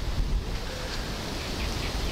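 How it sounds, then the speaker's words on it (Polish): Strong wind gusts roar across an open microphone outdoors by the water on a sunny fishing day, a dense continuous rumble and buffeting with no voices. "Wiatr bardzo duży wieje."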